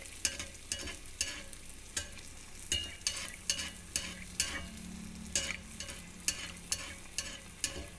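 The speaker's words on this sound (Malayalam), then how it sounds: "അതിനുശേഷം നമുക്കൊരു സ്പൂൺ വെച്ചിട്ട് ഇതുപോലെ എണ്ണയൊന്ന് തട്ടിക്കൊടുക്കാം." Neyyappam fries in hot oil, a soft continuous sizzle punctuated by repeated light metallic taps and scrapes as a spoon splashes oil over the sweet, irregular and close.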